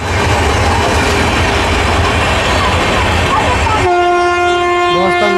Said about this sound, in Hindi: तो कोई तो ट्रेन यहाँ से भी हमारी ट्रेन को ओवरटेक कर रहा है।